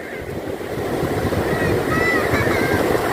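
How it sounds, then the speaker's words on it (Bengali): Sea waves wash onto Laboni Point beach at Cox's Bazar at night, a steady rushing surf mixed with wind buffeting the microphone. "পানি কিভাবে ঢেউ খেলছে দেখুন"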